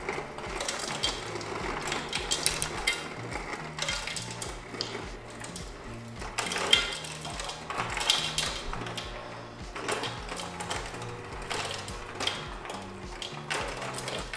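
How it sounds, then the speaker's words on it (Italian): Rattling, grinding mechanical clatter of a refrigerator ice dispenser releasing ice, continuing in uneven bursts for several seconds, close by. "Abbiamo anche la colonna sonora oggi del ghiaccio del nostro frigorifero"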